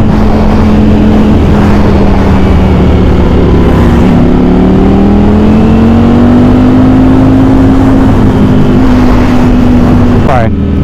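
A Ducati Streetfighter V4 SP motorcycle engine heard from the saddle while riding, a loud, steady drone that rises and falls slightly in pitch as the throttle changes, with wind rush around it.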